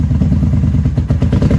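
A 1994 Honda Magna motorcycle engine idles up close and loud, still cold after a carburetor float bowl drain, with a rapid, uneven, thumping low-end pulse.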